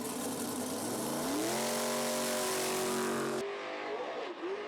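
A drag racing car launches hard off the line in a loud, close, harmonic engine roar that climbs steeply in pitch, then cuts abruptly as the throttle lifts, leaving a quieter lower drone.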